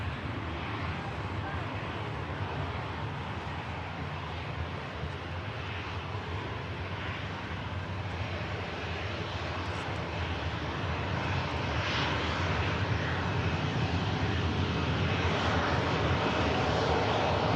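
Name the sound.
Aer Lingus Airbus A321neo XLR airliner arriving from Dublin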